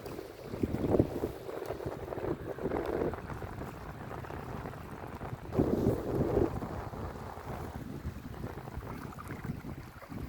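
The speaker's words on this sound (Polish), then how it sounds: "Wiatr mi dzisiaj doprowadzi do szału." Steady wind buffets the microphone outdoors, with gusty low rumbling surges and a faint watery background; no one speaks.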